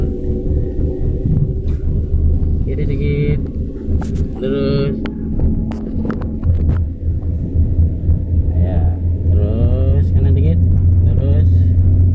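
Manual car engine rumbling and building revs during a driving lesson, a steady loud drone throughout while an instructor talks over it.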